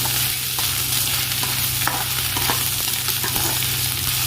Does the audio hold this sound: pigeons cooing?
no